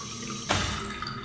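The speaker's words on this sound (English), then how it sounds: "Running water, nice." Water from a sink tap in Riven starts flowing abruptly partway through, a steady close rush of running water over a soft ambient hum.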